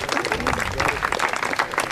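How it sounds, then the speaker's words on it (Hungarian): Applause for the podium finishers at a sports competition, a dense and steady wash of many hands clapping with a voice speaking over it. "Egy utolsó nagy tapsot kérünk"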